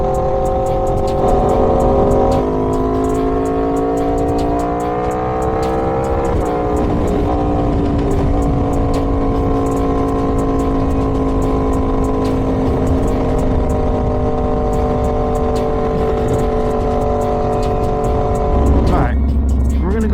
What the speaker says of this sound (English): That sound for you, that beautiful V4 sound.